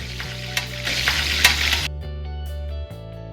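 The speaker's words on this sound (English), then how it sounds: "Now we're going to put our meatballs in the oil and we're going to brown it 5 minutes on each side." Meatballs brown in hot oil in a pan, a loud crackling sizzle with a few sharp pops close by, which cuts off partway through and gives way to quiet steady tones.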